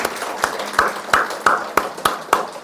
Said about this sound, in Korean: 오늘 귀한 간증을 해주신 우리 이수연, 이노의 아키코 가정을 위해서 다시 한번 감사의 박수를 부탁드립니다